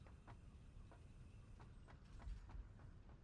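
A train in the Satisfactory video game pulls into a station, a steady low rumble with periodic clicking rail beats recurring every fraction of a second, at moderate distance with no talk over it.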